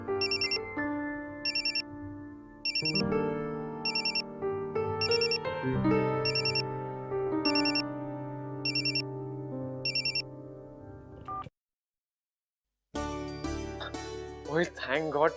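A melodic phone ringtone rings on and on with steady repeating bright pulses, then cuts off into a moment of silence before music resumes.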